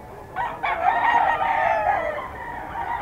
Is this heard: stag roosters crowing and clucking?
yes